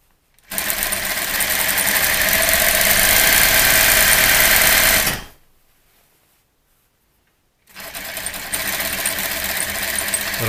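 Sewing machine stitching a back tack on a box-style swag: a loud, steady motor whir runs for about five seconds, stops for a couple of seconds of silence, then starts again, with no talk.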